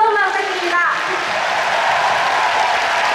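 Audience applause for an orchestra at a gala concert, a broad wash of clapping that starts under a fading voice and then carries on steadily on its own.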